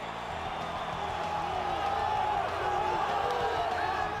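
A big arena crowd in the EA Sports UFC fight game roars and cheers steadily, a dense continuous wall of noise swelling slightly toward the end.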